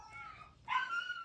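Dog in a room indoors, giving two short high whimpering yips, the second louder and longer, close by and with no one talking over them.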